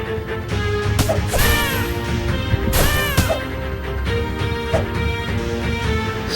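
A fragile magic stone shatters in a video game with sharp crashing smashes, two prominent breaks in quick succession followed by smaller impacts and chimes over steady game background sound.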